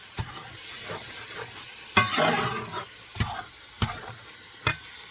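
Lasagna tomato sauce stirred in a cast iron skillet on an electric range with the heat off, a low simmer behind a handful of scraping strokes and distinct spoon taps, close, no talking.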